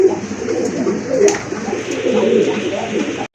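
A large female Black-lace pigeon coos among other pigeons at close range, giving soft, repeated throaty murmurs over a busy loft background.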